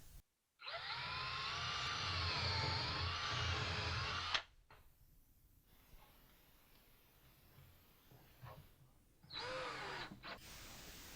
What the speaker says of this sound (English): I want to pre-drill some holes in the bottom